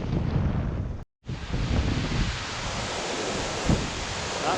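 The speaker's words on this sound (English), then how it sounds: "Here's the wind." Strong wind roars across the microphone at the top of Gordale Scar gorge, a loud continuous rushing broken by one brief dropout, with no talk.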